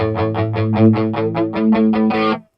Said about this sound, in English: you know we got to try this with a little bit of distortion